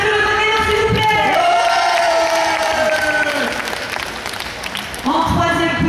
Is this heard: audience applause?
yes